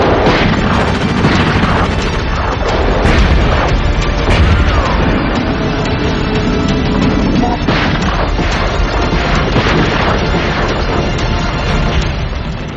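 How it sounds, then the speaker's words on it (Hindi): Army shelling and bombing of a presidential palace, a dense, loud barrage of booming blasts and crashing gunfire that rolls on without pause, with some talk mixed into the din. "बिना किसी चेतावनी के सेना उनके राजभवन पर बम बरसाना शुरू कर देती है।"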